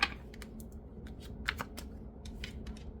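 Tarot deck being shuffled by hand, with scattered light clicks and snaps of cards that come irregularly, close up and quiet, with no speech.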